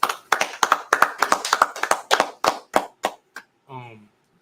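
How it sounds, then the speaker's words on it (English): A group claps for a brotherhood class in Killeen, about a dozen sharp, evenly spaced hand claps in a steady rhythm, close and distinct, ending just before a brief voice. "Let's go ahead and clap it up."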